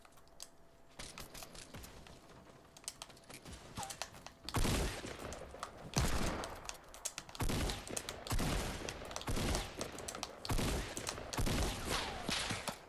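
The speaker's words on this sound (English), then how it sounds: "someone's sniping us" Gunfire rings out in a Fortnite battle royale match, with repeated sharp loud shots and bursts spread across the scene amid game clatter and clicking.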